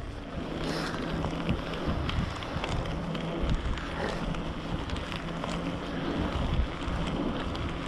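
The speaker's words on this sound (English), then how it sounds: "So it's kind of windy." Steady wind buffets the microphone during a bicycle ride, a constant loud rushing roar with gusty swells throughout and no speech.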